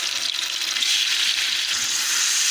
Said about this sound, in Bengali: আদা রসুনটা এখন আমি একটু ভেজে নেব।